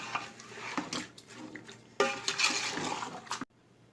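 Water and spices stirred in a pot for spinach and mutton palak gosht, with a steady run of close scraping, sloshing and clinking strokes that stops abruptly near the end.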